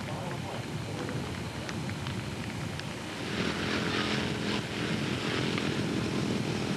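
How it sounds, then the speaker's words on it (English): A twin-engine radio-controlled scale model airplane drones steadily at a Top Gun 2000 scale model competition, a continuous buzzing engine note that grows somewhat louder partway through. "The Twin sounds great, and it really powers this airplane well"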